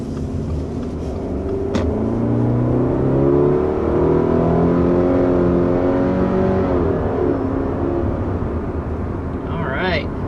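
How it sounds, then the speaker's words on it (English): A 2023 Subaru Crosstrek's 2.5-liter boxer four-cylinder engine revs up and settles while driving, its rising and falling drone steady and close, with a voice talking over it. "So what you're hearing is the new engine."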